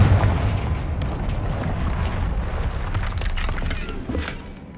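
A Confringo spell blast in Hogwarts Legacy erupts as a loud, deep booming explosion at the start, followed by a sustained rumbling roar with crackling, shattering debris that slowly fades.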